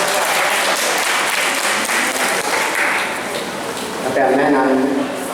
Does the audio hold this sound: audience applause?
yes